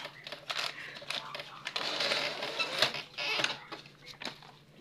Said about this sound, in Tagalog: Nag-paper jam pa.